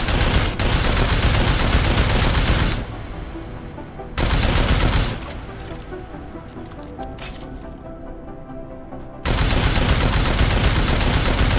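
Loud, dense bursts of rapid gunfire at a shooting range in Deus Ex: Mankind Divided, three long volleys broken by quieter stretches of shell clatter and range ambience.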